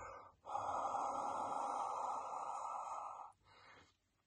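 A long, close, breathy exhale pushes warm air onto cupped hands, lasting about three seconds, with a soft intake of breath before and after and no talking.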